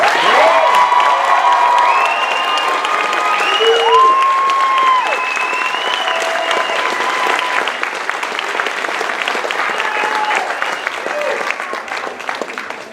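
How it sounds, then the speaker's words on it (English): A chiropractic college graduation crowd erupts in loud, sustained applause for the graduates, with cheers, whoops and high-pitched shouts riding over the clapping before it gradually thins out. "Ladies and gentlemen, please give a thunderous applause for your graduates."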